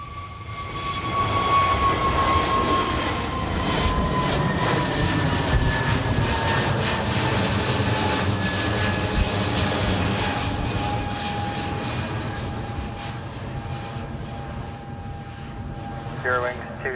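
A large jet takes off at Dublin Airport, its engine roar loud and sustained with a falling whine, gradually fading as it climbs away.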